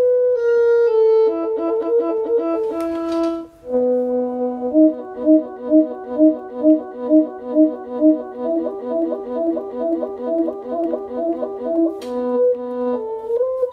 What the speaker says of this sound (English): And the guitarist violin is something like this.